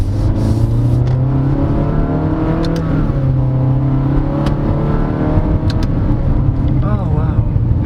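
A 2023 Honda BR-V with a CVT, driven in manual mode, roars loud and close, its engine note climbing and settling as the transmission mimics gear shifts, a steady rumbling drone throughout.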